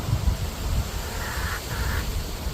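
Chickens on a live stream give two short, muffled calls in quick succession over a steady hiss and low rumble, sounding distant and faint.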